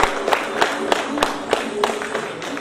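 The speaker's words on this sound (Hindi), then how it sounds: "तालियों की गड़गड़ाहट से हम अतिथियों का स्वागत करें।" An audience claps steadily at a convocation and induction ceremony to welcome guests, the rhythmic applause loud and close with occasional sharper peaks.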